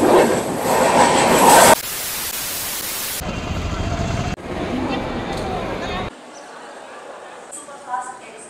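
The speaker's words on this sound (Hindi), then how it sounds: "ट्रेन नंबर 12853 अमरकंटक एक्सप्रेस जो कि छत्तीसगढ़ के दुर्ग को मध्य प्रदेश के भोपाल से कनेक्ट करती है" Amarkantak Express passenger train from Durg to Bhopal running on rails through ghat country, a loud continuous rumble and clatter of wheels with squealing, cut between several shifting takes.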